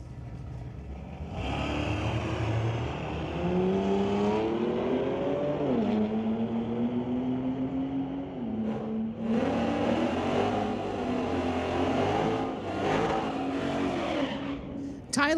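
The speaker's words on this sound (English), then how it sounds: "It's Tyler Levy from Maple Ridge, the 1978 Ford, going against Dorian Unkovic from Burnaby in his 2008 BMW" At a street-legal drag strip, a 1978 Ford and a 2008 BMW roar off the line, their loud engines rising in pitch through the gears and fading, with an announcer talking over them.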